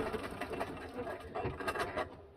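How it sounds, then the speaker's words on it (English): A sewing machine runs fast, stitching paper embellishments cut from scraps, its needle chattering in a quick, even rhythm at close range. "Oh, I should turn on my sewing machine"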